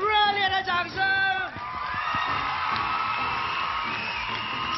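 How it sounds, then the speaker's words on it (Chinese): A studio audience at a televised idol competition finals breaks into cheering and whooping, a broad crowd roar swelling after a host's raised voice and continuing steadily. "我们给予他们最热烈的掌声"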